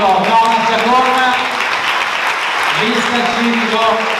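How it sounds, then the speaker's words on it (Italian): A crowd applauds Thomas Giacon at a civic list election rally, steady clapping under a loud speaking voice throughout. "Facciamogli un grande applauso a Thomas Giacon"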